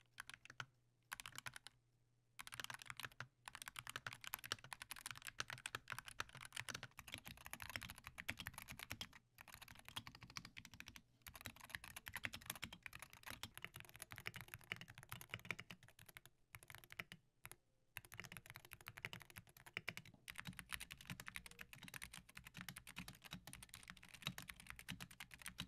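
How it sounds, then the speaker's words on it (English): Fast typing on a DrunkDeer G60 Hall effect keyboard: a dense, continuous stream of quiet key clacks with a few brief pauses, close and unaccompanied by speech. "I'm just gonna go through a quick typing test so you guys can kind of see how the DrunkDeer actually sounds"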